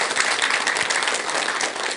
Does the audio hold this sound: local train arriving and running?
no